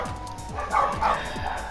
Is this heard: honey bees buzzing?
no